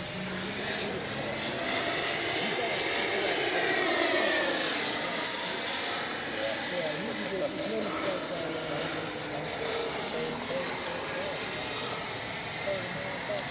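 An FMS 70mm F/A-18F RC jet, carrying landing gear and ordnance, flies overhead in a Florida winter setting. Its continuous turbine whine and rushing roar swell and fade as it passes, with a thin high tone sweeping through.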